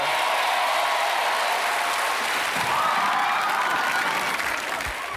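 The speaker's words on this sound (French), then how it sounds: "On peut l'applaudir." An audience at a live show claps for a man in a leather jacket who has been invited up from the crowd to sing. The applause is dense and continuous throughout, loud and close, and fades slightly at the close.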